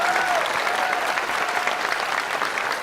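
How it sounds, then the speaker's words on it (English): Loud, steady applause from a crowd at a political town hall in California's 22nd district, dense clapping sustained throughout without pause. "let's give them a round of applause"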